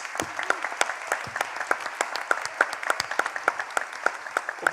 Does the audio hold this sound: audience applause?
yes